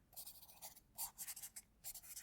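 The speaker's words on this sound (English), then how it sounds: "as I sit alone at our kitchen table, I want you to think of my hands as I write these final lines" A pen writes a letter on paper in a quiet room, making faint, close scratchy strokes in short bursts with brief pauses between words.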